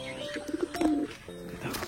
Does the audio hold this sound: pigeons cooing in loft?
yes